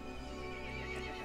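A horse whinnies in Resident Evil Village, a faint, drawn-out neigh mixed with clip-clopping hooves against a dim, murky game backdrop.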